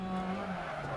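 In the Dirt Rally racing game, a rally kit car slides through a turn, its engine droning steadily while tire noise hisses over it for a brief, continuous moment.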